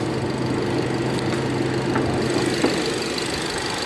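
A 2022 Chery Tiggo 8 Premium with a 1.6-litre direct-injection turbo petrol engine idles under the open bonnet, a close, steady hum and whir with an even, unchanging level throughout.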